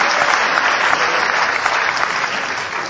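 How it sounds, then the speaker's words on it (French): An audience at a live comedy show breaks into loud, dense applause, sustained clapping filling the room for a few seconds before slightly tapering off. "C'était là qu'il fallait applaudir."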